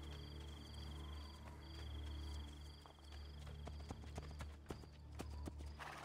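Steady clip-clop of horse hooves in Assassin's Creed II, a quick rhythmic trot over a low background hum.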